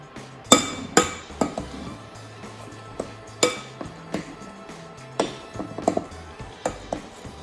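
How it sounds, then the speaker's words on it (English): A spoon scrapes and taps against a bowl while egg whites are folded into chocolate mousse, giving sharp, irregular clinks and knocks with quieter stirring between them and no talking. "keep stirring, make sure you come right up from underneath"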